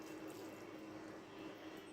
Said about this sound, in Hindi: अब मैं यहाँ पर ऐड करूँगी तकरीबन 1 कप के करीब पानी